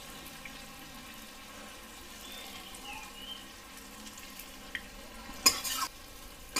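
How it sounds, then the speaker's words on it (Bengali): Spice masala with turmeric fries quietly in a pan, giving a low sizzle broken by a few sharper scrapes and clatters of stirring near the end. "মশলাটা সুন্দর ভাজা ভাজা হয়ে গেছে"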